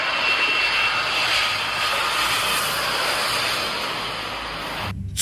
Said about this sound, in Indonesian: yang ini pesawat terbang Airbus A380